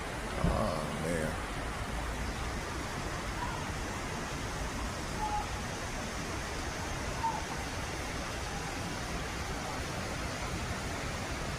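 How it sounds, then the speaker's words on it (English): Waterfall pouring in Hawaii after a tropical storm, heard as a steady, broad rushing roar that holds constant throughout, with a brief voice near the start. "A waterfall over there."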